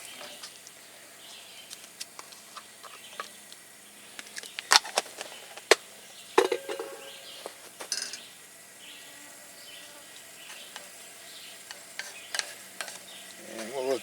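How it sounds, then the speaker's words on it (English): Small ham cubes sauté in a pan while a spoon stirs and scrapes, giving soft sizzling with scattered sharp clinks and taps, fairly quiet and close, with no talking. "And we'll let that saute for a few minutes once it heats up"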